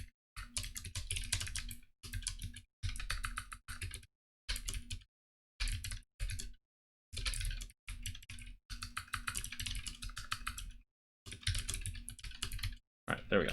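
Bursts of rapid keyboard typing as code is entered on a computer, clattering in quick runs separated by short pauses, close and clear with no voices.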